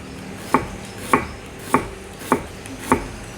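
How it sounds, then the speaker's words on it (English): A knife thinly slices onion on a cutting board for Thai holy basil stir-fry, five crisp evenly spaced chops, close and clear, with no talking. "What to do with onion? Just thin slice it."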